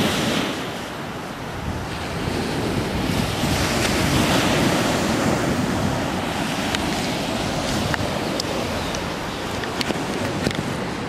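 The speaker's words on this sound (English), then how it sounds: "I'm on this beautiful beach." Ocean waves wash onto a beach in Maui, a broad continuous roar of surf with rising swells and buffeting wind noise on the microphone.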